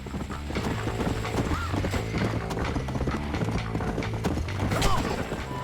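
A horse gallops in the Red Dead Redemption video game, its rapid rhythmic clip-clop of hooves steady and close, with a brief whinny mixed into the continuous pounding.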